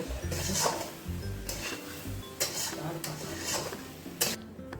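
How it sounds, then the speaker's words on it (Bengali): Mutton pieces are stirred and fried in a pot while cooking for a Bengali-style red curry, with a spoon scraping and clinking against the metal over a continuous sizzle at close range. "আস্তে আস্তে বেশ কিছু সময় নিয়ে মাংসটাকে কষিয়ে নেব"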